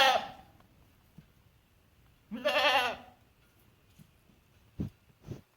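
A baby goat with a white dot on its head, freshly rescued from a brush pile, bleats in a few short cries separated by quiet gaps, near and fairly loud.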